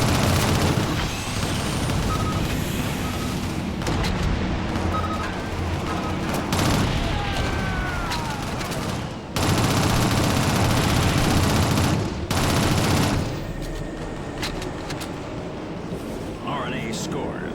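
Dense gunfire and automatic bursts in the video game Shadowrun, loud and sustained with heavy blasts and a busy action mix, with voices talking over it.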